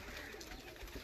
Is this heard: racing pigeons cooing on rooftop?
yes